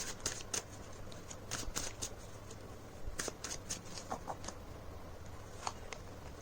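Tarot cards are shuffled in a series of quick, soft riffling flicks and snaps, faint and close, followed by quieter handling as a card is drawn.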